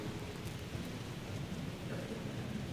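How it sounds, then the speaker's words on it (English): Heavy, loud rain pours steadily and continuously, a dense close wash of rainfall with faint rumbles beneath, no voices. "That is a very loud rain."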